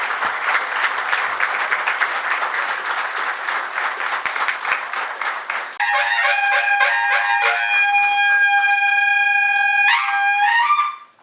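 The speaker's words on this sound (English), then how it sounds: "a big round of applause for Dr. Prashant Samant and Mrs." A hall at a hotel seminar breaks into loud applause for award recipient Dr. Prashant Samant, a dense sustained clapping that runs into a bright tonal musical passage before everything cuts off.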